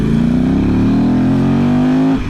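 A Yamaha Ténéré motorcycle's engine drones loudly while riding, its pitch rising steadily as it accelerates, then cuts off sharply at the end.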